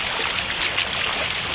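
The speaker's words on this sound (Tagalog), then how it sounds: "Malakas ang ilog, malakas." Steady, loud rush of a flooded river flowing strongly, a continuous broadband roar with no pauses and no voices.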